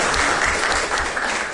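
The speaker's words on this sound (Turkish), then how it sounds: "Burada alkışlıyorsunuz." Audience applause at a literature festival panel on children's literature and cinema, a steady dense crackle of many hands clapping in a hall, sustained and fairly loud throughout.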